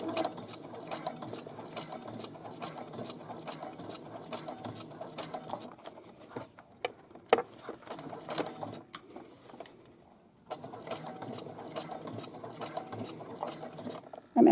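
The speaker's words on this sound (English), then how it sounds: "I'm going to go slower when I am stitching this." Sewing machine stitching bag straps slowly, a continuous close ratcheting, ticking mechanical chatter that pauses briefly near the end with a few clicks before resuming.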